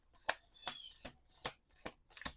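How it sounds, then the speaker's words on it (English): A deck of playing cards is shuffled quickly up close, giving about six or seven short riffling bursts in a steady rhythm with quiet gaps between them. "For some reason, I feel like I'm shuffling too fast."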